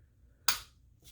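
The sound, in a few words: Sig Sauer P320C pistol trigger dry-fire click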